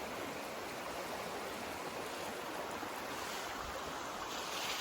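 A mountain creek in the Smokies rushes continuously in a dense, even wash of water noise, steady and unbroken from start to finish.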